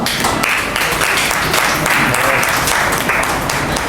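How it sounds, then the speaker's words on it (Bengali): Loud, dense applause from an audience at a ceremony fills the hall with steady close clapping, while someone speaks over it. "আর তো হাততালিটা একটু জোরে হোক"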